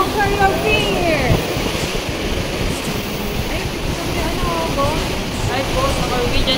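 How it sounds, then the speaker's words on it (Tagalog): Wind blowing across the open deck of a cruise ship in Alaska, a steady broadband rush with gusty swells, heard under people talking. "May humahangin."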